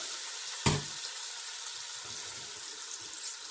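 Food frying in butter in a pan gives a steady, hissing sizzle close by, with one sharp clank near the start and faint low clatter from handling later on.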